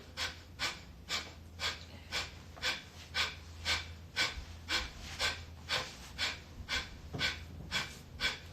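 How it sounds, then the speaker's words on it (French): Rapid, forceful breath-of-fire yoga breathing: sharp nasal exhales pulse steadily at about two per second, close and clear, with no talking. "expire toute l'air de tes poumons, inspire à moitié, active le feu"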